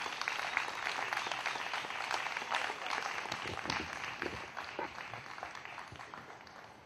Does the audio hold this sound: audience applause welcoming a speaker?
yes